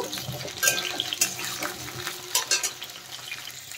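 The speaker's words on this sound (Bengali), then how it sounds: "এই সময় আমি দিয়ে দেব আলু, তাহলে একসাথে আলু আর পটল ভালোভাবে ভাজা হয়ে যাবে" Potatoes and pointed gourd fry in a pan while being stirred, giving soft sizzling with a few sharp scraping stirs, moderately close and without talk.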